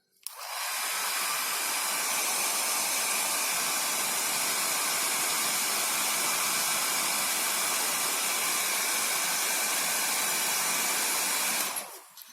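A hair dryer dries a spotted point on a TLC plate during a lab practical: a steady, close, loud blowing hiss switches on, runs evenly for about eleven seconds, then cuts off.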